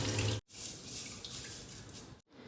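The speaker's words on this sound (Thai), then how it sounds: "ซาวน้ำสักสองสามน้ำนะครับ" Rice is rinsed under a steady, close rush of water splashing into a pot or sink, broken by two brief pauses, with no one speaking.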